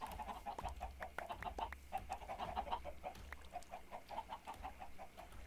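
Chicken in the Minecraft video game clucks in quick repeated bursts, fairly faint and close, with a low rumble underneath.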